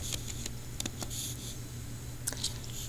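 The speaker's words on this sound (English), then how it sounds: "I'm going to type in Alberta" Light keystrokes on a computer keyboard in an Excel spreadsheet, a few soft, irregular clicks in small clusters with pauses between, quiet and close, no talking.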